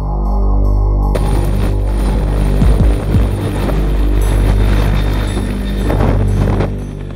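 A loud helicopter drones and thumps close by as it departs from a polar expedition camp in Greenland, its rotor rumble steady and heavy throughout, with wind buffeting the microphone.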